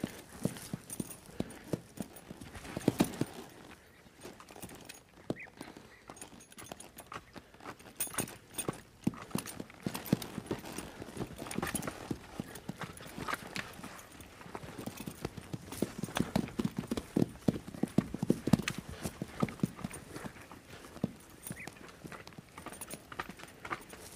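A horse's hooves clip-clop in a steady walking rhythm at moderate distance, the clatter rising and falling a little and never stopping.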